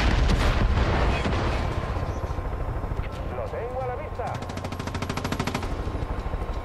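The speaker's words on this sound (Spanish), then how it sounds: "He disparado ahí arriba por si había alguien" Gunfire in Far Cry 5, loud bursts of rapid automatic shots over heavy rumbling game noise, with a voice speaking briefly partway through.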